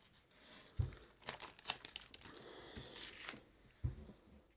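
Paper crinkles and rustles in several short bursts close by, with brief quiet gaps between the handling sounds.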